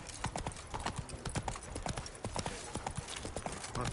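Hooves of Roach the horse in The Witcher 3 clopping in a quick, steady rhythm, close and distinct, with a brief murmur of voice under the gait.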